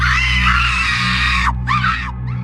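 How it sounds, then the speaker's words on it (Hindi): A woman screams loudly in terror for a horror story, a long piercing shriek that breaks off, then a second shorter scream, over a low steady hum. "रागिनी की जोर से चिल्लाने की आवाज आती है। वो आवाज काफी भयानक होती है।"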